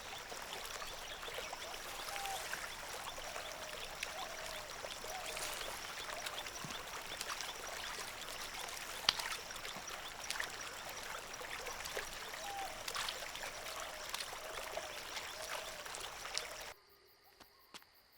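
River water flows in a continuous, even rush that stays steady and moderately loud for most of the stretch, then cuts out abruptly near the end. No one speaks.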